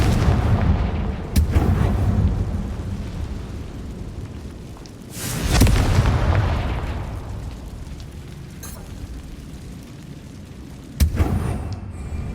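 Confringo blasting spell explosions in the Hogwarts Legacy video game: three loud booming blasts with long rumbling decays, at the start, near six seconds and near eleven seconds, with no talking.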